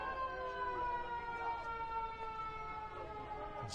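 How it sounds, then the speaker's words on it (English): Emergency sirens wail at Memorial Stadium during a college football game, a steady, moderately distant tone that holds and wavers throughout over low crowd ambience. "Sirens blaring here at Memorial Stadium."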